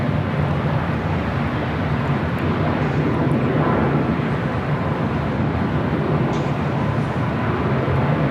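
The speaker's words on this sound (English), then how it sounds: "Finnair Flight 2, A350-900, heading back to Helsinki." A Finnair Airbus A350-900 jet at LAX produces a steady, broad engine roar throughout, loud and continuous without any talking.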